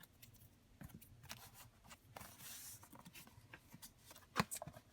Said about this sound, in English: That's what scissors are for.